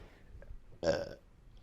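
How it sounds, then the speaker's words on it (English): A single short, crackly burp goes right into a close microphone, standing out loudly against a quiet background. "Burp right into that mic."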